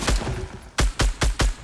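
A weapon fires in the video game Fortnite with one sharp shot, a short pause, then four punchy shots in quick, evenly spaced succession, loud and close with no other sound.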